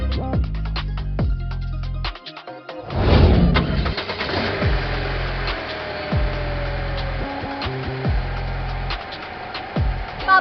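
A car engine cranks and catches, then settles into a steady idle and hums close by. Several loud repeated electronic tones and effects run over the engine throughout, and no speech is heard.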